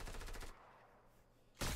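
Rapid bursts of automatic gunfire in the video game Fortnite, a loud rattling volley at the start, a quieter lull, then another sharp burst at the end, with no talking.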